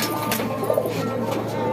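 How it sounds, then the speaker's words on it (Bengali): Low, soft cooing of Shahjahanpuri pigeons rumbles close by in a short burst, with a faint background hum. "প্রায় 40 জোড়া শাহজাহানপুরি কবুতর আছে"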